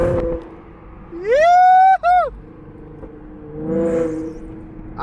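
A V6 Ford Mustang's exhaust rises sharply as it pulls hard during a drive, with a brief gear-change dip, then a second softer surge, recorded from inside the car.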